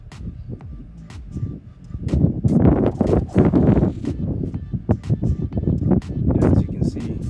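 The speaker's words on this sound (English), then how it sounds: "the wind is picking up really bad" Strong gusts of wind buffet the microphone outdoors during slingshot shooting on a very windy day, a loud, rough rumble that swells and falls continuously throughout.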